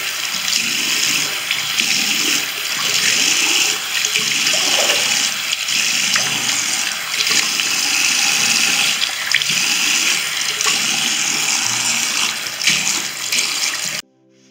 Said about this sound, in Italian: andiamo a risciacquare